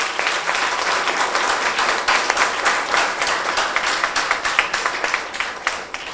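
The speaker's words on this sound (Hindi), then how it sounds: "जोर से तालियां बजाइए।" A crowd claps loudly and steadily, a dense wash of applause that holds for several seconds with no talking over it.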